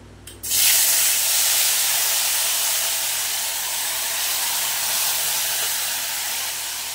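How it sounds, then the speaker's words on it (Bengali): Spice paste of ground cumin, ginger, chili, salt and turmeric hitting hot oil for a jackfruit curry, a sudden loud burst of sizzling that settles into a steady, dense hiss lasting several seconds. "এবার এই মশলাটা তেলে দিয়ে কষবো"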